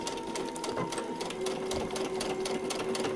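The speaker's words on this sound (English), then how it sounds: "We're going to take a few stitches in," Sewing machine stitching a paper-pieced quilt block, a steady fast rhythmic whir of needle strokes running alone and continuously at close range, with a faint mechanical hum beneath.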